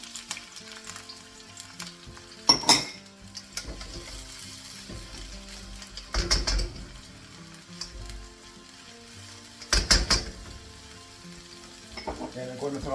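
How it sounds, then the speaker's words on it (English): Chillies and garlic stir-fried in hot oil in a wok, with a constant sizzle broken by several loud bursts of tossing and scraping, near and fairly loud, with no speech. "go in with a wok. Some oil. And we'll go in first with our chilies,"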